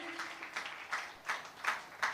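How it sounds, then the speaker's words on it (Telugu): A church congregation at a Christmas celebration claps in a loose, uneven rhythm, several bursts of hand claps close together, fairly quiet and alone. "చప్పట్లు కొడతారా?"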